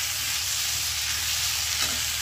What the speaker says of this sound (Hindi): तो इसको अच्छे से फ्राई कर लूँ पहले, अच्छे से फ्राई कर लेंगे।